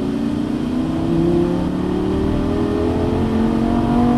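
Lamborghini Gallardo Superleggera LP570-4 at full throttle on a racing course in Fontana, California, its engine note climbing steadily in pitch, loud and continuous with no talk over it.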